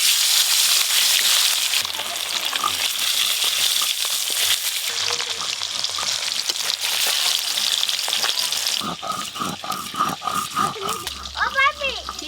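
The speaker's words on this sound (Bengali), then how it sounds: "প্রথমে তুল মাছগুলো ভেজে নেব।" Tul fish frying in hot oil in a home kitchen, a steady broadband sizzle running throughout, close and loud, with a voice talking over it near the end.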